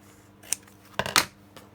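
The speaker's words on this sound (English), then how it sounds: "Just want to trim the edge of that off." Scissors trim the edge of a paper journaling card with a few quick, crisp snips close by, alone with no talk.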